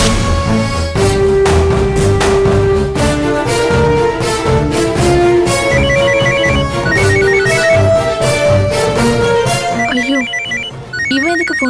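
A loud electronic ringtone melody from a telephone plays continuously in a Tamil TV drama scene, stepping through repeated bright tones over a dense backdrop, with no talking.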